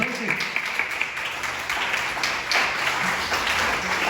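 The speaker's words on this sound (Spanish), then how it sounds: "Démosle un aplauso al Señor, entonces" A church congregation applauds during a Spanish-language sermon, the clapping somewhat thin and uneven with voices mixed in.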